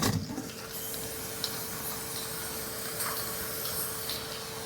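Aerosol spray of Gorilla Glue adhesive hissing steadily and continuously at close range over yellow jackets outdoors among weeds, with a faint steady tone underneath and no talking.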